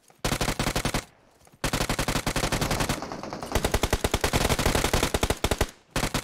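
Rapid automatic gunfire from the PUBG Mobile battle royale game, loud bursts of close shots with brief pauses between volleys, one long sustained stream near the end.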